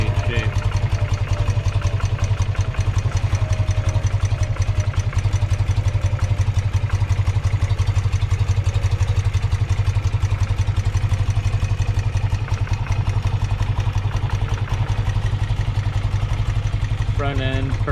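A 1993 BMW R100GS motorcycle engine idles steadily around 750 RPM, a loud, close, even low thrum with ticking mechanical clatter throughout.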